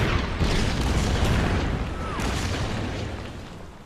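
Artillery shells explode in a World War II strategy video game, a dense rumbling boom and crackling blast filling the whole moment, loud and continuous before slowly fading.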